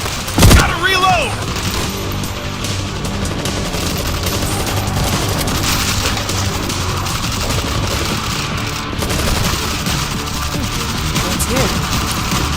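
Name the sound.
gunfire in the video game World War Z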